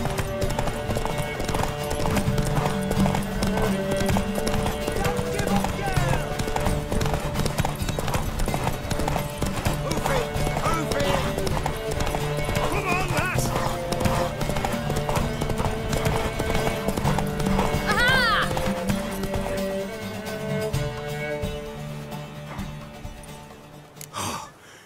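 Galloping hooves from horses racing in The Witcher 3: Wild Hunt pound continuously for the whole stretch, layered with music, breathy gasps and an occasional whinny, loud and close.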